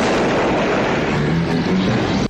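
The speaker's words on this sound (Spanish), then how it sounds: "Mogollón de explosiones" A roaring, rumbling explosion from the 1988 film Slugs, sustained as a dense wall of noise, loud and close, cutting off abruptly at the end.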